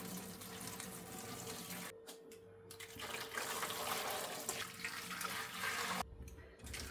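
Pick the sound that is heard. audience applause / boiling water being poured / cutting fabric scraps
boiling water being poured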